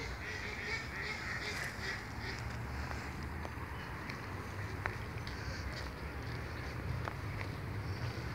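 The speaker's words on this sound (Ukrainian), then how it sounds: "тут плавають качки" Ducks quacking on a small river in a city park in Poland, frequent honking calls over a steady outdoor wash of background noise.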